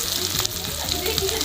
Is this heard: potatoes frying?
yes